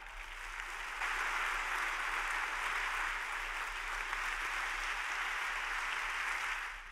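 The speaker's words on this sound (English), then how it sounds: "Welcome with a warm applause, Sebastian Ronneberger." Warm audience applause greets a science slam presenter, a steady even wash of many hands clapping at moderate volume, swelling slightly after a second and holding before fading at the end.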